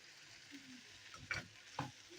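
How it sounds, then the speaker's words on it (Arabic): An egg omelette mixture fries in a pan with tomatoes and spices as a quiet sizzle runs under a few soft stirring scrapes. "نقلب، نديله تقليبه كده"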